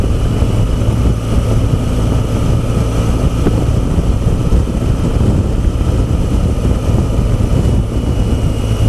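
BMW R 1200 GS motorcycle under way, its engine drone and road and wind rumble steady and loud throughout, with no voices.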